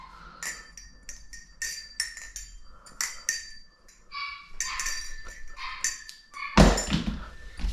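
Repeated high-pitched puppy yelps and whimpers come in quick bursts, mixed with light clinking from a Machinewise Prysma Pro balisong trainer being flipped and a sudden louder rustle near the end.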